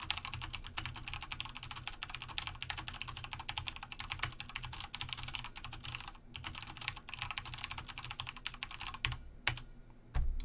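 Rapid, steady typing on a computer keyboard, dense clicking keystrokes close to a Blue Yeti condenser microphone on a boom arm, continuous for about ten seconds with a few brief pauses and no talking.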